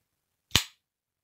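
A single sharp, snappy click as the blade of an OKC Rat folding knife locks into place, close and crisp, alone in silence.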